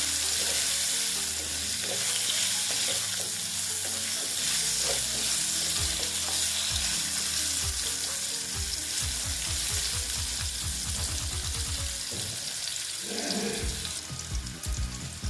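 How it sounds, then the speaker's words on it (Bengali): Potatoes frying with turmeric in a hot pan, a dense constant sizzle with rhythmic scraping and stirring strokes, fairly close and without talk. "একটু হলুদ দিয়ে দিলাম, দিয়ে ভালো মতন আলুগুলোকে আমি ভেজে নেব"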